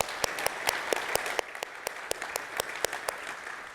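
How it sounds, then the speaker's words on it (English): Applause at a Mac admin conference, a crowd clapping steadily with sharper individual claps standing out, moderately distant and continuous throughout, with no talking. "round of applause for everyone who's helping out with the cameras and everything else"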